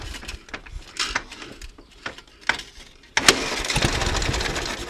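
A Ural Tourist motorcycle with electronic ignition is kicked over in sputtering irregular bursts, then catches and roars loudly at full throttle, a sustained harsh engine blare to the end.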